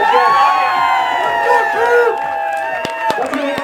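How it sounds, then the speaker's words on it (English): Guests at a wedding reception at the Wachusett Village Inn cheer, whoop and shout loudly and steadily, with clapping mixed into the crowd noise and a few sharp claps standing out near the end. "Let's give him a nice round of applause."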